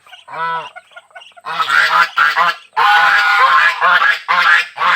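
Geese and ducks honk and quack loudly at feeding time, a single nasal honk followed by bursts of overlapping, raucous calls from a close flock, with short pauses between volleys.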